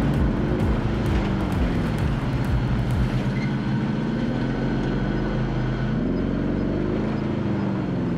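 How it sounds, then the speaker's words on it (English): A UAV recon aircraft in Call of Duty Warzone drones overhead as a steady, loud engine roar with low rumbling tones that swell and shift slightly throughout, with no voices. "UAV entering the AO."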